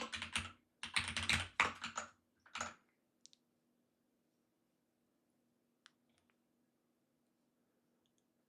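Close computer keyboard typing comes in several quick clicky bursts over the first three seconds, followed by quiet with a few isolated key taps.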